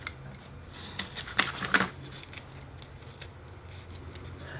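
Excess material being trimmed during an RC Sparrow plane build: a short cluster of soft snipping cuts, close up over a quiet room hiss.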